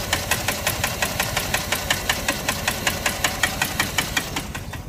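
A 2004 Jeep Grand Cherokee's 4.7 liter V8 idles with a steady, rapid knocking tick, close and even, with no one talking.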